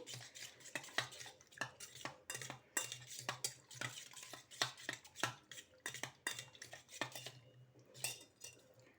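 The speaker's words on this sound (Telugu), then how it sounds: "వాటర్ వేసుకొని మనం స్పూన్ సహాయంతో ఈ విధంగా కలుపుకొని" A spoon stirs powdered soap into water in a bowl, giving a steady run of quick metallic clinks and scrapes against the sides, close and fairly quiet, with no talking.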